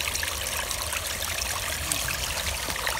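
Water trickling and flowing through a small creek that dries up in summer, a continuous close, splashing babble with no voices.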